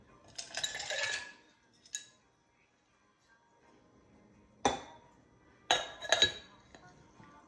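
Ice added to a cocktail shaker for a Long Island Iced Tea, bright clattering and clinking in a few distinct bursts with quiet gaps between, close and loud.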